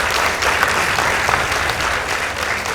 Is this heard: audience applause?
yes